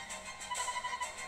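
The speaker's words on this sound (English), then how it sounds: "Captain, your phone's ringing." A phone rings in the Inazuma Eleven GO: Light video game, a short bright electronic trill pulsing in quick repeated bursts, fairly quiet.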